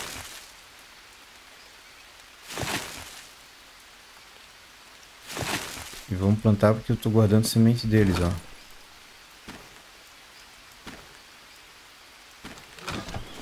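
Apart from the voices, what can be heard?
rain falling in the video game Green Hell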